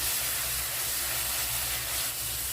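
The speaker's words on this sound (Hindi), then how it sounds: "अब चलाते हुए तेल छोड़ने तक इसको हम भून लेंगे" Spiced masala roasting in hot oil for a potato and pointed gourd curry, a steady, close, fairly loud sizzling hiss that holds evenly throughout with no voices.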